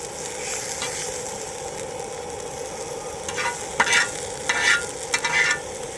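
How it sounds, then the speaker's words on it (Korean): Frozen pork belly sizzles on a cast-iron griddle outdoors, a steady close frying crackle with a few sharper bursts of spattering toward the end and no talking. "이게 지금 구워지고 있는 거"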